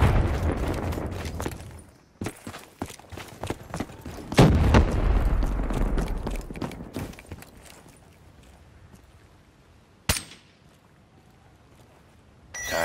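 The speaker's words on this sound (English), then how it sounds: "Grenade!" Call of Duty Black Ops 3 multiplayer combat: bursts of gunfire and a loud grenade blast with rumbling debris, then scattered shots and one sharp later crack amid quieter gaps.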